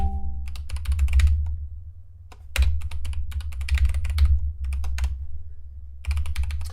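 Fast, clattering typing on a computer keyboard in a script editor, with bursts of keystrokes separated by short pauses, close and fairly loud over a low steady hum.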